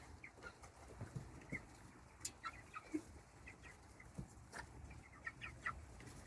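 Four-week-old young turkeys on a homestead peep and cluck softly in scattered bursts, several birds calling close by over a low background murmur.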